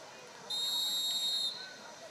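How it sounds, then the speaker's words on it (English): A referee's whistle ends the quarter at a high school football game with a single sustained shrill blast of about a second, heard over a distant crowd murmur. "There's a whistle. End of the quarter."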